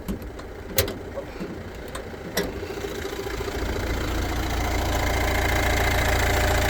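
A 2018 Renault Trafic van's 1.6 engine idles with a steady low rumble, close and even. A couple of sharp clicks come early, then the hum settles in and grows slightly louder and fuller.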